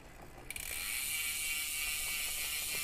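Steady, fast ratcheting buzz from a Trek bicycle's ceramic hub freewheel spun by hand, starting after a brief moment and holding close and continuous to the end, with no talking.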